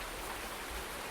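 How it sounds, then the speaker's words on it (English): Rain falling at six in the morning in Farming Simulator 19, a soft, even hiss of steady rainfall, faint and continuous across a brief moment with no voices. "so it is raining 6 o'clock in the morning"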